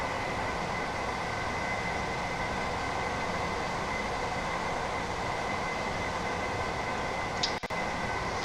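Class 802 train motors running in a train simulator game, a continuous even electric hum and rumble with a faint high whine, holding steady and close, broken only by a brief click near the end.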